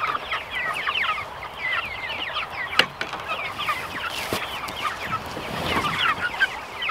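Meat chickens kept in a pen cluck steadily in a dense, busy chorus of short overlapping calls, fairly close, with no talking.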